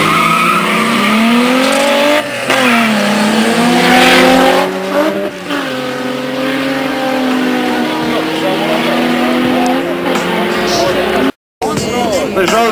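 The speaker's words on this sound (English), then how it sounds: "Peugeot 205 nalazi sa dva motora." A twin-engine Peugeot 205 street race car at a 402 street race in Banja Luka revs hard and loud, engine pitch rising and falling in repeated sweeps with tire squeal, close and continuous throughout with a brief dropout near the end.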